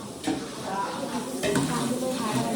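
Onion poha (kanda pohe) is cooked for breakfast in a pan, with a soft, continuous sizzle and a few scraping stirring strokes, while people talk nearby.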